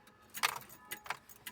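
Ignition key turned in a Peugeot 404, with a short metallic jangle of keys on a ring and a couple of faint clicks, close and quiet.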